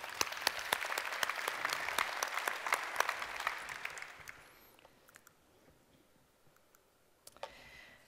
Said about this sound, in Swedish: jag tycker att han är väl värd en applåd